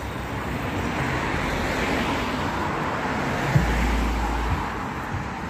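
Town-centre street traffic in Leigh during a Christmas-lights walk: a continuous broadband roar of passing cars with a low engine rumble, plus a brief heavier vehicle drone partway through.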